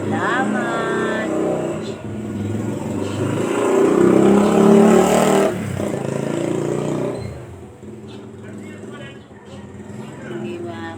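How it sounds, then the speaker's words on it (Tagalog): A motorcycle passes by outdoors: its engine swells to a louder roar around the middle and then fades, under steady nearby talking. "May dumaan na motorsiklo."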